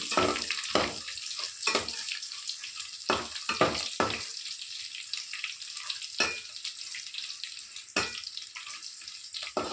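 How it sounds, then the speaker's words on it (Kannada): Small local chilies frying in hot oil for a jackfruit dish, a steady bright sizzle with repeated louder bursts of crackle and spatter, close by with no talking. "ಇದು ಎಣ್ಣೆಯಲ್ಲಿ ಸರಿಯಾಗಿ ಕಾಯಬೇಕು"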